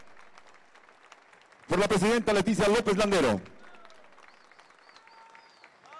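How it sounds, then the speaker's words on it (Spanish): A clear announcing voice over light crowd murmur at a municipal government ceremony in Córdoba, Veracruz, with no obvious applause; the loud central burst is speech, not clapping, and the room ambience continues under it. "Fuerte el aplauso a esta nueva administración"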